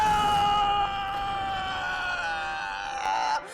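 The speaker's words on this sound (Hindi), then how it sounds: "ये चीख सुनी? ये किसकी आवाज थी?" A boy lets out a long, loud, sustained scream, strained and harmonic, lasting a few seconds before cutting off abruptly, in a dramatic kidnapping scene.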